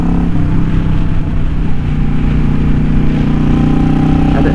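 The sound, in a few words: motorcycle with cocktail shaker style exhaust pipes running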